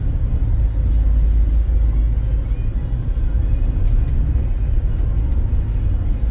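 A 2007 BMW X3 cruises on a test drive, heard from inside as a smooth, steady low engine and road rumble with faint whir, continuous throughout.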